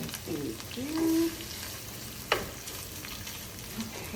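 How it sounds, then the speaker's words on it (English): Vegetables sizzling in a hot pan, a steady soft frying hiss with a sharp clank partway through, no talking. "It's time to put our vegetables in here."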